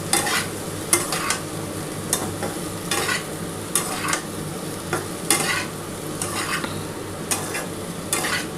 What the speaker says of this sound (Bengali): দেখো খুব ভালোভাবে ভেজে নিয়েছি, এত সুন্দর করে ভাজা হয়েছে।